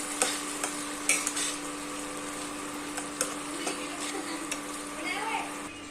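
Onion and garlic fry in a pan with a soft continuous sizzle, broken by a few sharp scrapes and taps from stirring, the whole scene fairly quiet and close.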